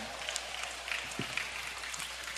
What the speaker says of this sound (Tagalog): Ibalik po natin yung ating mga kamay na malayang nagpupurit, pumapalakpak sa Panginoon.